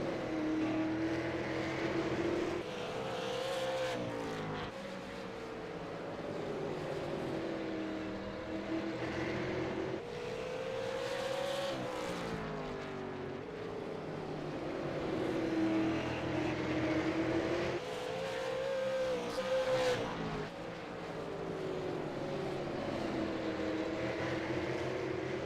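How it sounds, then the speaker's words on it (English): Stock cars racing around a short track at South Boston, a continuous loud engine roar that swells and fades as the pack laps past, with cyclic revving and no talk in the foreground. "Now the 75 of James Kerr holding up Brennan Forseal and Dustin Painter."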